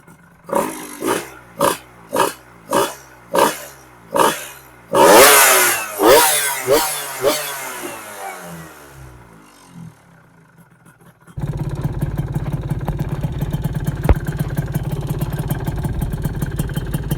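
Yamaha F1ZR two-stroke motorcycle engine running on Pertamax Turbo fuel: loud, close revving in about eight rhythmic bursts, then a long wail that falls away to near quiet, before a steady buzzing idle takes over.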